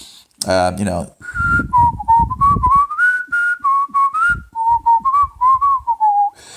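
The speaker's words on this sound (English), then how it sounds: "I can whistle, no problem there" A person whistles a wavering melodic tune up close, preceded by a brief rustling noise at the start.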